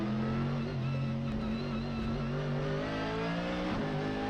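A GT race car accelerates hard out of the chicane at Fuji during qualifying, its steady engine drone and whine continuous and fairly distant, with no pauses.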